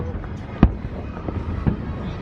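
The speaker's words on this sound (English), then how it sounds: "Look at these fireworks. Isn't that stunning?" Fireworks burst at night over Disney World near the Polynesian boat dock, a couple of distant booming thuds over steady outdoor ambience, with a person talking nearby.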